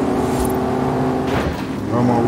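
Truck engine in the racing game Forza Horizon 5 revving hard, a loud droning roar with rising pitch toward the end, heard alone without voices.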